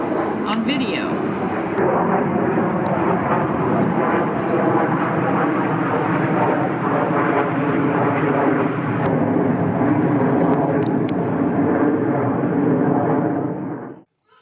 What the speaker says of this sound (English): In the background you can hear the stealth bomber coming through